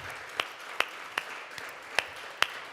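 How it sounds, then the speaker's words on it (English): Sparse applause for a klezmer band at a Succos show: a handful of distinct, spaced-out claps over a low background murmur, thinning rather than a full ovation. "Yes, big round of applause"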